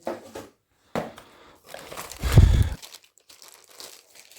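Packaging being opened and torn off a Starnet Twin 4000 Plus Android satellite receiver, with several separate crinkling and rustling bursts and one louder crunch near the middle, close up.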